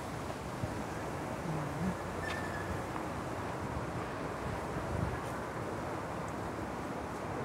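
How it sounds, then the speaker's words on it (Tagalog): Strong wind buffets the microphone at the seaside, a steady broadband roar with gusty swells and no clear pauses throughout. "Mahangin, mahangin."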